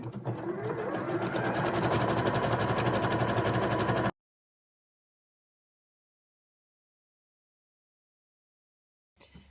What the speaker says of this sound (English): I'm going to do a zigzag half on and half off around this edge to finish it off